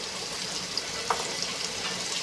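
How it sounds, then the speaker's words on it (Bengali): Pumpkin pieces sizzle quietly in hot oil in a wok, a soft, steady crackling hiss with occasional small pops. "কড়াইটা ভালো করে গরম করে তেলটাও গরম করে নিয়ে কুমড়োগুলোকে ভাজবেন"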